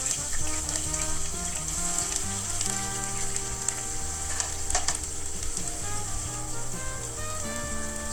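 Onions fry in plenty of hot cooking oil, a continuous close crackling sizzle at steady loudness, with a faint melodic background tone and no talking.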